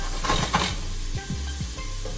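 Hot pepper paste is stirred in a pan while cooking, with a steady soft sizzle and scraping strokes of a spoon close by and no talking.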